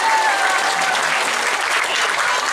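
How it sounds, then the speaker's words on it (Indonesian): An audience applauds at a religious lecture, with sustained, even clapping from a sizeable crowd, loud and continuous throughout. "Tepuk tangan untuk muslimat."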